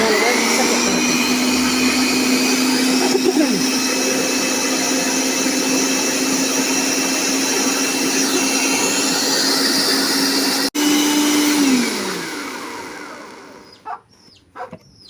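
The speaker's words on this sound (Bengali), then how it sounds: "এখন ভালোভাবে মিক্সার করতে হবে।" An electric mixer beats eggs and sugar for cake batter, a loud steady motor whine running continuously before winding down and stopping near the end, followed by faint bumps and a brief voice.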